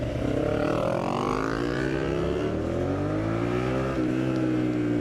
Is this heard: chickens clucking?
no